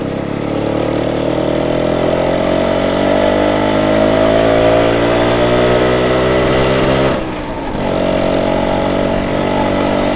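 A 1967 BSA Bantam 175 D10 motorcycle engine running loud and close throughout a test ride, its buzzy two-stroke note steady and then rising through the revs, with a brief dip near the end.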